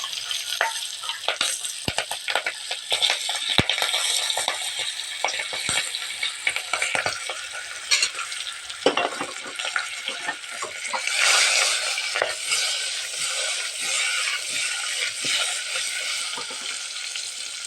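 Dosa batter hitting hot oil tempered with mustard seeds, cumin, turmeric and chillies in a home kitchen, giving a loud, steady crackling sizzle throughout with a few scraping stirs and a surge of hiss partway through.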